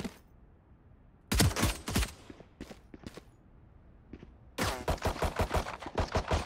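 Gunfire in the shooter game Valorant, with a single shot, then scattered bursts, then a fast rhythmic string of loud, close automatic shots that starts and stops between quieter gaps.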